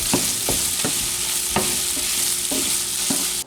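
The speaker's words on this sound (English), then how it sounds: "I'm going to put just a little bit of butter in there with the sausage" Sausage sizzling in a pan with melting butter, a steady frying hiss broken by about eight sharp scraping stirs at irregular intervals, close and fairly loud with no talking.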